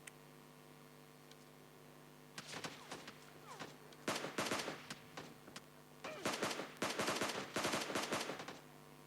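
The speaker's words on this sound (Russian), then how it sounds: "Да откуда он стреляет?" Automatic gunfire rattles in PUBG Mobile Lite, coming in several dense bursts of rapid shots over a steady electronic hum, growing louder and more sustained toward the end.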